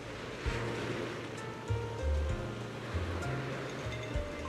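Riverside waves lap in a steady wash with a light breeze in the Zenless Zone Zero video game, a continuous mid-level surf texture under soft low background tones, with no speech.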